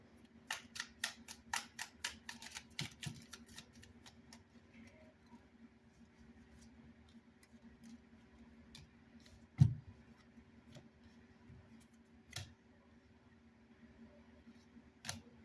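Tarot cards being shuffled by hand: a quick burst of crisp, clicking riffles and flicks for the first few seconds, then sparse, quiet taps and shuffles at close range, with no talking.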